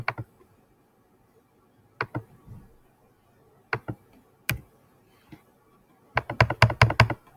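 Keys clack on a computer keyboard in scattered single and paired taps, ending in a quick burst of rapid keystrokes, close and clear in a quiet room.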